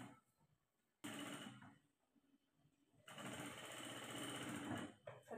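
Sewing machine stitching a bell sleeve in a curved, rounded seam, heard as two loud continuous runs of rapid mechanical whirring separated by a quieter pause.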